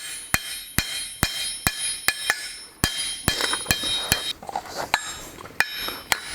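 A rounded-face forging hammer strikes metal to texture an art deco bookend piece, sharp ringing blows at a steady rhythm of about two per second, close and loud, with no voices.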